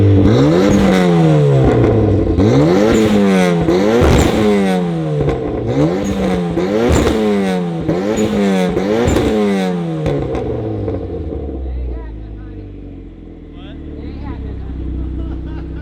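A tuned street-race car revs hard about eight times in quick succession, each rise and fall of engine pitch rough and burbling. The engine then settles to a lower, uneven idle, with people talking nearby.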